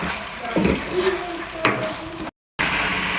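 Chicken korma curry with red and green chili paste is stirred in a pot, producing a steady, moderately loud sizzling, bubbling wash with occasional scrapes and a brief cut to silence near the end.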